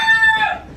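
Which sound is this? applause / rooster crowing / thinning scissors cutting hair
rooster crowing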